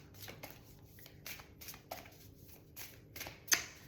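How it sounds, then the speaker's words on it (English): Oracle cards being drawn and shuffled by hand, a series of quiet soft riffling swishes and flicks up close, ending with a sharper snap. "I'm only going to grab 2 more cards."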